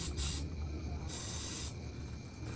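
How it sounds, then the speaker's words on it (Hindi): Lubricant spray hisses onto a tight nut during an electric bicycle's BLDC hub motor repair, two close, loud bursts with a brief pause between them. "इसलिए मैं थोड़ा सा ये वाला स्प्रे यूज़ करूँगा"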